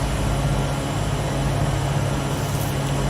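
Jet airliner rolling on the runway just after landing at Jackson Hole, Wyoming, in the evening: a steady, loud broadband roar with a low rumbling hum throughout and no talk.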